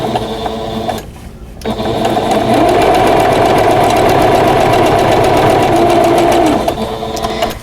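A domestic sewing machine stitches quilt binding at a 2.5 stitch length, running loud and steady with a fast mechanical chatter for several seconds, pausing briefly near the start, then whirring on continuously before slowing at the end.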